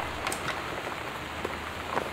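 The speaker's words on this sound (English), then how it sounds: "The Northwest Weather Service reports high winds and torrential rain conditions affecting the following" Torrential rain and high winds in the game Gone Home, a steady close patter of rain on a surface with a constant hiss and scattered louder drops, no voices.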